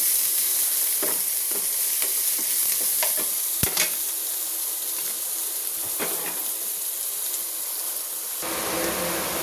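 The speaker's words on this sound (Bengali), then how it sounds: "পেঁয়াজটা একটু আমি লাল লাল করে ভাজবো।" Onions fry in a pan with a steady bright sizzle and hiss, broken by occasional clinks and scrapes of stirring, and no talking.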